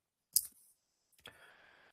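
Two computer mouse clicks, sharp and close, separated by a short quiet gap, with a faint electronic hum trailing after the second click.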